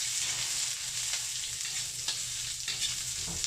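Onions fry in a pan for beef papaitan, giving a steady, fairly soft sizzling hiss with a few faint stirring scrapes.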